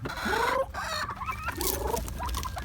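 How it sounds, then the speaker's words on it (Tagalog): Chickens and turkeys in a backyard coop cluck and call close by, with several overlapping squawks, rising cries and rustling throughout, fairly loud and busy, with no one talking. "Ito tayo ngayon sa aking pabuhan tsaka manukan."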